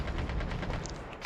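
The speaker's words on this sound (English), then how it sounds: "Firing away." Rapid gunfire from a battle royale video game, a steady run of shots at fairly regular intervals, moderately loud, with a brighter burst near the end.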